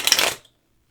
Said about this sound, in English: shuffle my Lenormand deck again between blessings.